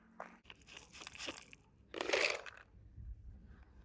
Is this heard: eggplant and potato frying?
no